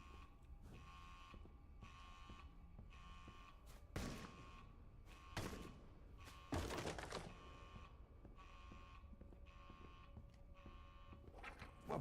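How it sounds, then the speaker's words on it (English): A door-lockdown alarm in the Edge of Sanity video game, a steady repeating electronic buzzer tone that pulses throughout, broken by a few loud thuds and bursts, with no talking. "the alarm locked down the door"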